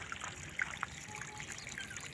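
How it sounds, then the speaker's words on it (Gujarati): Water from a full tank trickles into a pit, a faint, steady flow with a few small splashes and no talk. "જો ખાડમાં પાણી જાય છે"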